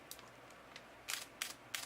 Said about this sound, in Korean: 보통 이런 식으로 찰칵찰칵 거리는 셔터 속도가 들게 되는데